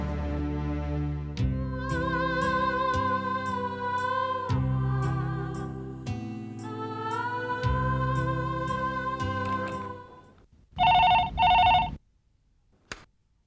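A melodic electronic tune plays for several seconds, then a telephone gives a short, bright ring burst before it goes quiet.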